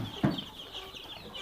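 A single short cluck from chickens kept in a small home-scale coop, close by over a quiet, faintly noisy background.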